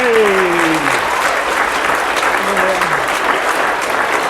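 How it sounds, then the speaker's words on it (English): Big round of applause from a school presentation day crowd, loud and continuous throughout, with a voice speaking briefly over the start and again midway. "we're all going to give this person a really big round of applause, please"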